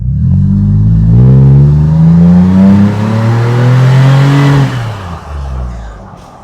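A truck fitted with a Flowmaster FX Extreme exhaust accelerates, heard from inside the cab with the windows up, its engine droning and rising steadily in pitch through a couple of gears before easing off, loud and close.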